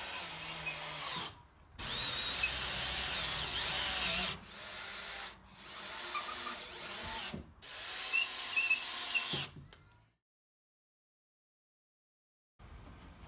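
Power drill driving screws into the edge border of a giant outdoor wooden table, running in several bursts of whirring with short pauses between, close and loud, then going silent near the end.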